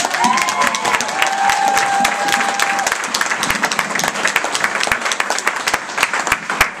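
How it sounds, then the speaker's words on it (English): Applause from a wedding reception audience, dense steady clapping with some cheering, loud and sustained throughout, with a faint whistle-like tone early on. "Give him a round of applause."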